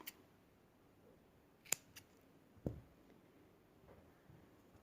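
Scissors snip off excess yarn from knotted handmade slipper work, with a couple of faint, quick close-up cuts in an otherwise quiet room.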